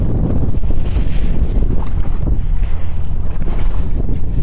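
Strong wind at sea buffets loudly and continuously, a heavy gusting roar with the low wash of waves beneath it and no talking.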